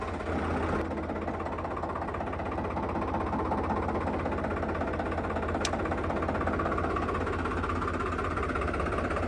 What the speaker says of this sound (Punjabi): ਇੰਜਨ ਦੀ ਆਵਾਜ਼ ਦਾ ਵੀ ਥੋੜਾ ਜਿਹਾ ਫਰਕ ਲੱਗ ਰਿਹਾ